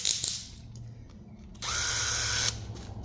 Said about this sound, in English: we're just going to countersink this just enough